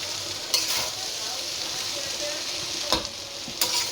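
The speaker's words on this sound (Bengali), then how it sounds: "এবার একটু নেড়ে ছেড়ে দিয়ে দেবো ভাতটা।" Fried rice with egg, chicken, prawns and vegetables is stirred in a pan over a steady sizzle, with three sharp scrapes of the utensil against the metal standing out near the start, middle and end.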